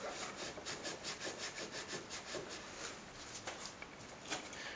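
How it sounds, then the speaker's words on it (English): A rag wipes and rubs around the brake master cylinder area of a Peugeot 306 during a brake master cylinder change, giving a steady, rhythmic scrubbing sound close by. "I'm just going to use a rag just to clean up around the area here"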